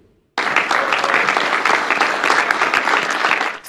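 Applause at a press conference breaks out suddenly after a moment of quiet, a dense, steady clapping from a room full of people that holds for several seconds before easing slightly.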